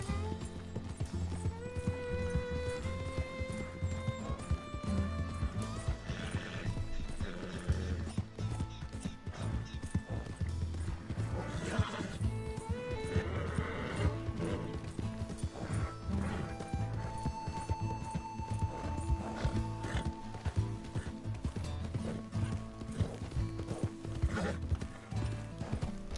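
Steady clip-clop of horse hooves with an occasional whinny in Red Dead Redemption 2, layered over continuous game music and ambient noise throughout.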